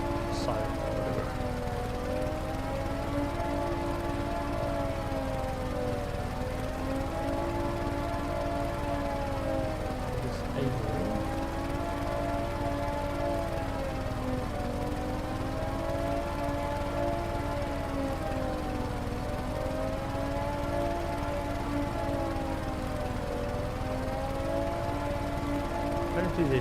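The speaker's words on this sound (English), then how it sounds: "It's going to stop this bloody alarm." A loud, continuous wailing alarm siren inside a helicopter-building video game, rising and falling in slow regular cycles for the whole stretch, layered over a steady engine-like drone.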